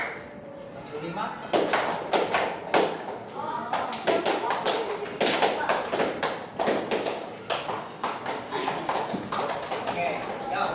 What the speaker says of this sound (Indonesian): tepuk satu, tepuk dua, tepuk tiga, tepuk empat, tepuk lima